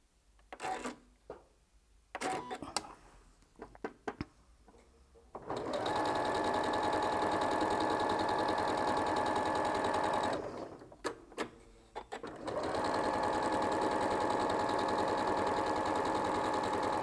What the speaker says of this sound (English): I'm going to pick up the next two, and I'm going to sew those two together